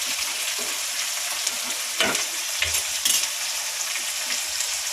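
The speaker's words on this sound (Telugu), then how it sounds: "కొంచెం కొత్తిమీర, నేను ఆయిల్లో కొత్తిమీర వేస్తాను" Coriander fries in hot oil in a pan with a constant bright sizzle, broken by a few soft stirring scrapes near the middle.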